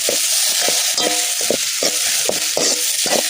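Green chillies, tomato and an egg mixture being stirred in a hot pan, with a spatula scraping in a quick, regular rhythm over a steady sizzle, close and fairly loud, with no talking.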